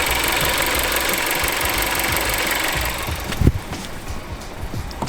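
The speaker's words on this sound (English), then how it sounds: "Can't hear any knocks, so it sounds okay. Engine sounds good." A used car engine idles steadily at close range while being checked for knocks, an even mechanical rumble that quiets after a few seconds, leaving a few faint clicks and handling noises.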